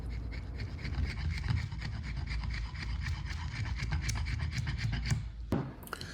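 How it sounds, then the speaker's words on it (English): A chisel scrapes old glue off the wooden legs of a vintage European coffee table in rapid, rhythmic rasping strokes, close and steady, ending with a sharp knock. "With my chisel, I remove most of the remnants of the old glue."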